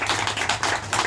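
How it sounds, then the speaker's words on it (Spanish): Applause for a consul at a Colombian community Mass in a parish, a steady patter of many hands clapping at close range with no talk over it. "Gracias a nuestro cónsul,"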